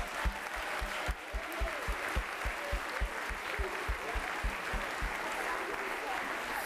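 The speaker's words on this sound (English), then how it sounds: "let's give them another round of applause" Parents and audience applauding after a fifth grade elementary school concert, a steady wash of clapping with a regular low thumping beneath it and faint voices mixed in.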